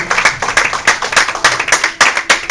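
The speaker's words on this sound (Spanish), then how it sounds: "Dale aplauso" A church congregation claps in a steady rhythmic beat during a worship service, loud and close, with roughly two claps per half second and little talk over it.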